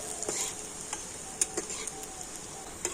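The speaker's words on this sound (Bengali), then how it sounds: "আর দেখুন কত সুন্দর তেলের উপরে ভেসে উঠেছে দেখুন তো একেবারে হালকা জাল দিয়ে এগুলোকে খুব সুন্দর করে আমি ভেজে নেব" Dahi pitha frying in oil over a low flame gives a soft, steady sizzle, with a few light clicks and taps from utensils over it.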